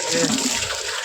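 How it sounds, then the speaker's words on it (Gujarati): A brief rush of running water from a hose washing a buffalo stable, a steady hiss of spraying flow with no other sounds. "નળી ચાલુ કરીને બધું ધોઈ નાખી"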